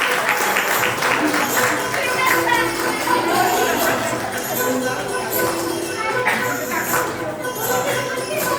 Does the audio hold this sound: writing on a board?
no